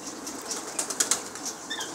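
Pigeons beat their wings in a short burst of flapping, several sharp flutters close by with faint rustling around them and no voices.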